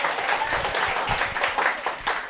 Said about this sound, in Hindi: I deserve some clapping.